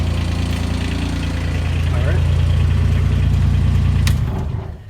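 The diesel engine of a Kubota X900 utility vehicle on a farm runs loud and close with a steady low throbbing idle, then fades out at the end.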